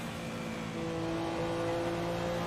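Porsche 962 race car in Assetto Corsa on the 1967 Silverstone layout, engine droning steadily with a rising whine as it accelerates, fairly quiet and constant with no talking.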